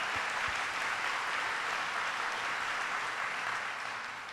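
A crowd at a governor's announcement event in Erie County claps in a steady, moderately loud round of applause, a dense wash of hand claps that holds evenly and eases slightly toward the end.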